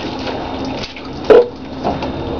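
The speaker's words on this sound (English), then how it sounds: "I'm going to rinse it with plain water." Plain tap water splashes and runs while a rusty tub is rinsed, a steady wash of liquid with a brief louder gush partway through and a smaller splash near the end.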